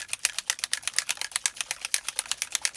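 Marker pens, Blueprint Sketch alcohol markers, rattling rapidly as they are shaken hard, a steady stream of sharp clicking knocks close up with no talking.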